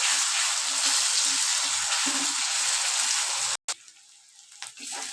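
Ginger-garlic paste sautéing in a hot pan, a steady loud sizzle with occasional stirring scrapes, cutting out abruptly near the end, after which a quieter, patchier sizzle returns.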